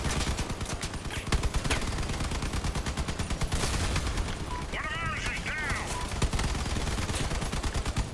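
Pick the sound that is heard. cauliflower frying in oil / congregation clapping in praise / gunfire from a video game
gunfire from a video game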